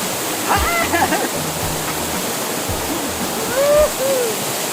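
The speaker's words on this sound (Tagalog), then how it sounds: "tago kasi itong falls na to pero ang taas. Ito ay may taas na 70 to 80 feet." Steady broadband roar of Siminublan Falls, a waterfall 70 to 80 feet high in Laur, Nueva Ecija, filling the scene continuously, with brief shouts and voices breaking over it.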